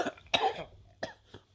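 A man coughs several times in short harsh bursts, close and loud, with brief pauses between the coughs.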